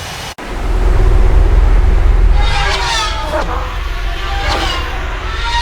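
A jet aircraft in the video game Ace Combat 7 comes in to land with a loud, broad roar that swells after a brief cut and then holds steady, while radio voices talk over it.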